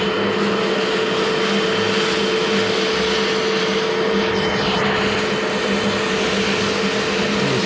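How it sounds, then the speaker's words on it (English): A carpet extractor cleans a stained rug with a loud, close, unbroken motor roar and suction hiss that holds steady throughout. "Then you need an extractor like so. Fire it up."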